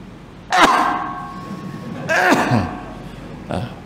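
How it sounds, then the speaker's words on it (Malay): Three separate coughs, close and fairly loud, with short pauses between them; the last one is softer and shorter. "Batuk pula tu."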